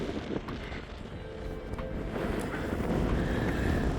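Steady wind roars and buffets a microphone on an exposed mountain ridge under grey cloud, a constant broadband rush that strengthens toward the end, with no voices.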